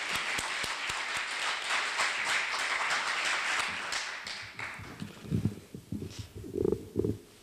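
An audience claps in a university auditorium at a remodeling completion ceremony, giving dense, steady applause that thins out into scattered claps and a few louder knocks near the end.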